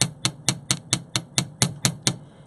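A chasing hammer taps a steel bench block while flattening a jewelry head pin, ten crisp, evenly spaced metallic strikes in quick succession, close and clear with nothing else heard.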